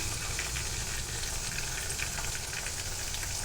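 Garlic and ginger paste sizzles and fries with onions in a pan for a mixed vegetable dish, a steady, dense crackle throughout with no talking.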